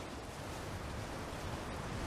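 Waterfall in the video game Elden Ring Shadow of the Erdtree, a constant broad rushing hiss of falling water, steady and fairly quiet with no voices.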